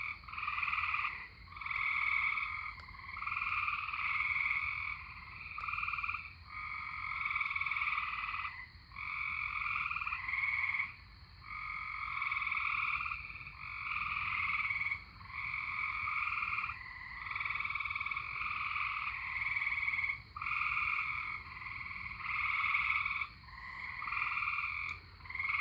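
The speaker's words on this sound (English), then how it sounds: "Tree frogs out here are happy." Tree frogs chorus in pulsing waves of bright, rapid croaks outdoors before a thunderstorm near Troy, Illinois, steady and moderately loud with brief pauses between bursts.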